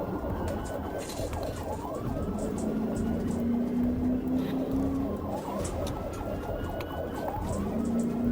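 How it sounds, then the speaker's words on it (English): Police car siren wailing during a dashcam traffic stop, repeated rising-and-falling sweeps with a steady tone over engine and road rumble, fairly loud and continuous. "He activated his emergency lights and sirens to initiate a traffic stop"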